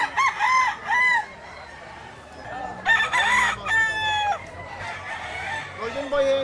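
A seven-month-old Bulik Dome gamecock crows repeatedly nearby, loud drawn-out calls with clucking between them, over faint background chatter.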